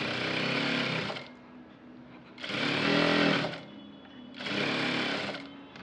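A sewing machine stitches a blouse front panel in three bursts of steady whirring, each lasting about a second, separated by short quiet pauses, close and clear.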